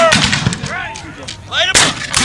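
Civil War reenactors fire a musket volley at a living history weekend at Fort Adams, Newport: a rolling series of sharp gunshots, one heavy near blast standing out late, with scattered shouting in between.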